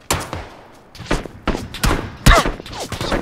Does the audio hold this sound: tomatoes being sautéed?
no